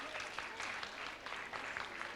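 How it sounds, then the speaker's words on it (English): An audience at an inter-school poetry and storytelling competition applauds, a steady patter of many hands clapping at a moderate, somewhat distant level. "Huge round of applause."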